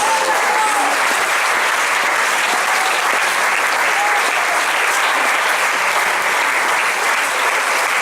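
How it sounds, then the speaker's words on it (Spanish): Church congregation applauding during a sermon, a steady dense wash of clapping hands that fills the room, loud and sustained throughout with no pauses. "Denle un aplauso a Jesús."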